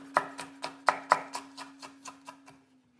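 A knife chops a chili pepper steadily on a cutting board, about a dozen crisp, close taps that slow and fade out over a faint steady hum.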